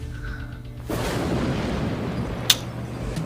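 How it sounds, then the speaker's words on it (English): A deep rumble and blast in the Honkai Impact 3rd video game, where a low roar swells in and rolls on, then a sharp burst cracks out near the end over the continuing rumble. "The rumbling at distant followed by explosion in the cluster building."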